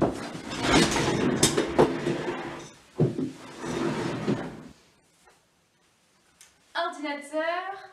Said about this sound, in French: Ouverture de la porte.